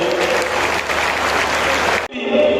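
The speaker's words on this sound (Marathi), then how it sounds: "एकदा जोरदार टाळ्या झाल्या पाहिजे" A crowd claps loudly and steadily at a political event marking revolutionary Umaji Naik's birth anniversary, dense applause that breaks off abruptly near the end and then resumes.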